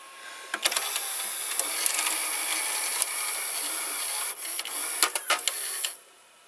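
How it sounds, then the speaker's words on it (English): A motor turns steadily in a 30-year-old Magnavox VR8405SL01 top-loading VCR during playback, giving a continuous whirring hum with a few small clicks near the end before it stops. "The motor is turning very well"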